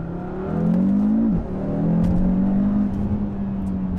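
A Cupra Formentor VZ5 five-cylinder engine revs hard and loud from close by, rising in pitch, dipping briefly with a gear change, then pulling strongly again, with no talk.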